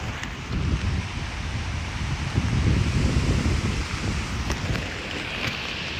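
Strong wind buffets a tent at a bike-trip campsite, a steady gusting roar with rustling flaps and faint patter, close and continuous with no voices.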